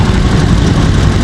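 Small-displacement Honda Super Cub C70 motorcycle engine droning steadily, loud and close, a dense low rumble with no breaks.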